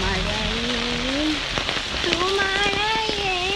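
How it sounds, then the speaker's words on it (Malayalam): Rain falls on an umbrella in a steady, dense patter during a July downpour, with a voice-like tone rising and falling over it. "മഴ കൂടുന്നുണ്ടോ എന്നൊരു സംശയം. കൂടുന്നുണ്ട്."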